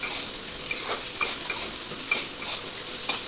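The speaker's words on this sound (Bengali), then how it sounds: "আবার নাড়ি চাড়িয়ে নিচ্ছে পেঁয়াজ দিয়ে মা।" Onions frying in a pan for chowmein, stirred with a utensil: a continuous sizzle with several scraping, clinking strokes at irregular intervals, close and fairly loud, no talking.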